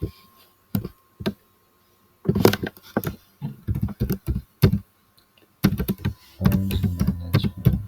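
Computer keyboard typing in bursts of quick clicks and taps, fairly close, with a few short pauses and a busier, denser stretch of keystrokes toward the end.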